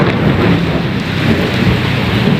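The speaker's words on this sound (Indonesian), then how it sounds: "Ada petir teman-teman ya." A deep rumble of thunder rolls beneath loud, steady tropical rainfall outside a rice shop, the low roar swelling and fading over a couple of seconds.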